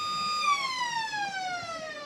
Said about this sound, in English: finally there's the siren